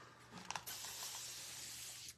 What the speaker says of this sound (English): spray some water on it, clean off the entire thing